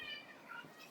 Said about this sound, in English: you will hear a bit of meowing, and that's because of my cats